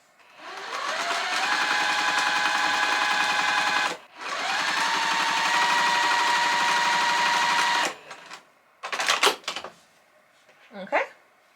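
Domestic sewing machine stitching a quilt sashing seam in two long steady runs of rapid mechanical whirring, each several seconds, followed by short bursts and handling noises.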